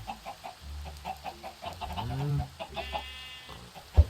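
Chickens cluck and squawk close by as they are let out of a coop. Short, uneven calls overlap, one rising squawk stands out, and a sharp knock comes near the end.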